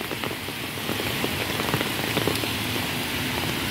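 Heavy rain falling on a street in Hong Kong, a dense, constant patter of drops hitting surfaces nearby, steady from start to finish with no talking.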